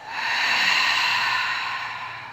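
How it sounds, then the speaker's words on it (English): A long, steady exhale out through the mouth during a restorative yoga breathing exercise, a close, breathy rush of air that swells and slowly fades over about two seconds. "exhale out through the mouth"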